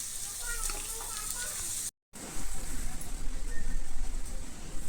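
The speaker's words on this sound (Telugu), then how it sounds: "కొంచెం మీడియంలో పెట్టి ఫ్రై చేసుకోండి" Ivy gourd slices frying in a pan over medium heat, giving a steady broadband sizzle that drops out briefly and then comes back louder and denser.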